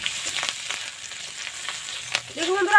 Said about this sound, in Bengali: এবার দিয়ে দেব আদা রসুন বাটা। আদা রসুন বাটাটা একটু ভেজে নেব।